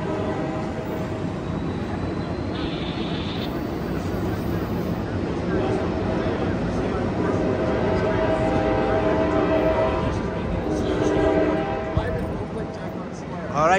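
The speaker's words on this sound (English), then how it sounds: "There go that train, folks." An Amtrak Capital Corridor train, number 738 led by an SC44 locomotive, rumbling past in Oakland toward Sacramento, a steady loud roll of wheels and engine building slightly over about fourteen seconds, with no talk over it.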